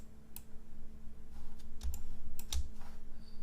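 Fingers tap out a short word on a computer keyboard, a handful of crisp, close key clicks in a quick irregular burst over a low steady hum.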